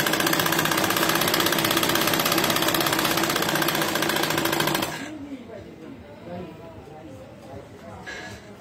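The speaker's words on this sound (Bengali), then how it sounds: "এখন সেলাই চলছে" Domestic sewing machine stitching a salwar in a tailoring lesson, a dense steady mechanical whir that runs loud for about five seconds, then stops abruptly, leaving quieter room sound and faint talk.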